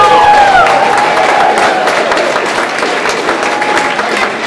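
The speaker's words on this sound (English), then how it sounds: "let's give him a round of applause" Applause and scattered cheering from a crowd at a community livability planning charrette recap, loud and steady throughout with a faint whistle-like tone riding over the clapping.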